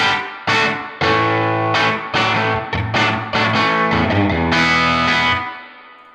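Distorted chords from a Collings 290 electric guitar ring out through a Silktone amp, dwell up and mix at noon, each strum washing into a long, spacious reverb tail that fades out at the end.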